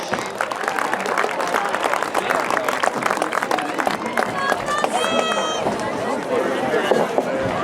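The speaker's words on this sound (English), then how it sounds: "Let's give a round of applause for our officials." Crowd applause and cheering for the officials at a football game, a steady wash of clapping from a large audience that fills the whole clip.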